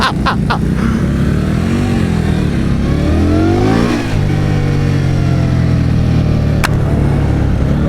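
An Indian Scout Bobber motorcycle engine revs loud and close, its pitch rising and falling through a steady throttle blip before settling into a sustained, throaty idle-to-mid rumble.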